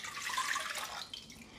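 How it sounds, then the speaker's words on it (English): Water pours into a pan in a kitchen, a steady, faint splashing stream lasting under two seconds, with no one talking. "First of all, we're going to pour some water in,"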